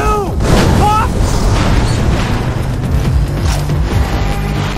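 Booming explosions in the video game Far Cry 3 burst one after another amid chaotic noise, with excited voices shouting over the blasts.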